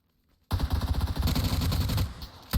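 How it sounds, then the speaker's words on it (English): Video game gunfire in PUBG: after half a second of near silence, a sudden burst of rapid automatic shots erupts loud and close, sustained for about two seconds before a short pause and another shot. "Getting shot at."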